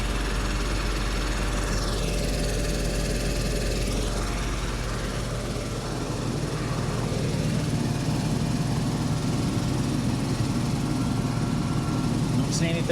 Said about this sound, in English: That noise is the smog pump running.